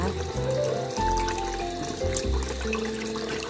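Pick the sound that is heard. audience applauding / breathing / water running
water running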